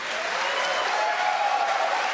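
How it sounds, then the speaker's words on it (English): A presidential debate audience in Greenville breaks into steady applause, a dense crowd of clapping hands that holds at an even level throughout, with no voices heard above it. "Hold the applause."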